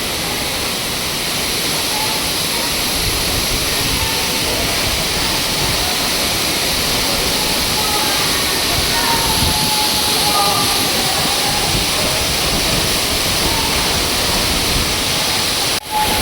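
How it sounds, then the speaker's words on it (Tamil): Baba Waterfalls pours water off the rocks in a loud, constant roar that fills the scene from start to finish, close and unbroken. "பாருங்கள் எப்படி தண்ணி கொட்டிகிட்டு இருக்குன்ட்டு. இந்த பாறையிலேருந்து வெளியே கொட்டிகிட்டு இருக்கு."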